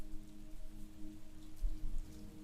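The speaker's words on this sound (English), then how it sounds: "The rain continued through the dark hours, drumming on the roof tiles, filling the gutters and pools" Rain drums steadily on roof tiles through the dark hours, a faint, even patter with soft low rumble and no voices.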